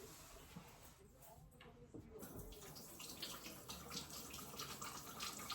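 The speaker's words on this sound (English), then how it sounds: "let me wash my hands real quick" Water runs from a tap while hands are washed, a faint steady splashing stream that grows fuller after a brief quieter stretch.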